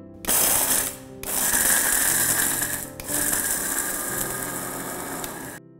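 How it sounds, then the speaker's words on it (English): A kitchen grinder jar grinds roasted almonds and coriander seeds in three short whirring bursts separated by brief stops, loud and close. "Now I am going to grind this into a coarse consistency."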